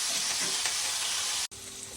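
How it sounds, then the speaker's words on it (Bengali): Cauliflower and new potatoes roasting in a hot pan for winter khichuri, a loud dense sizzle with a brief cut near the end before the frying resumes. "সবজিটা জাস্ট একটু কয়েক মিনিট ভেজে নেবো আমরা, একটু রোস্টেড সবজি হবে"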